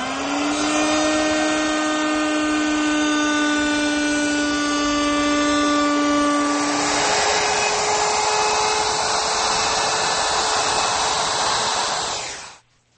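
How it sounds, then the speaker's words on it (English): A router at a router station with a special bit cuts a dado slot, a loud steady high-pitched whine that shifts pitch as the bit bites into the wood, then spins down at the end; no voices. "Now at our old router station, I've installed a special bit which will complete the slot."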